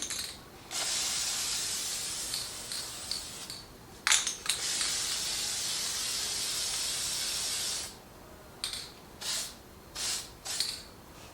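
Duplicolor Metallic Series Chrome spray paint hissing from an aerosol can onto bicycle forks outdoors: one long steady spray broken by a brief pause, then several short bursts near the end, close and moderately loud.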